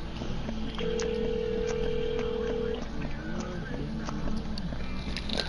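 Telephone dialing tones heard during a Minecraft session: a steady electronic tone sustains for about two seconds, with faint clicks and background noise around it.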